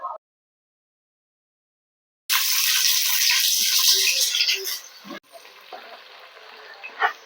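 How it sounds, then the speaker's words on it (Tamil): Whole spices such as cinnamon drop into hot oil for a Chennai-style vadi biryani and immediately hiss into a loud, bright sizzle that gradually settles into softer crackling and bubbling. "எண்ணெய் சூடாயிடுச்சு. இந்த பட்டை வகைகளை அதில் சேர்த்துக்கலாம்"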